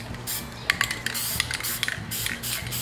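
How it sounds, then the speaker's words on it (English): Loctite High-tech gasket sealer spraying from an aerosol can onto a part during a Tecumseh small engine rebuild, a steady broad hiss lasting several seconds with a few faint clicks and taps over it. "This is the Loctite brand. High-tech. So you spray it on there."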